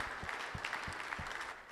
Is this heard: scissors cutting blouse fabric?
no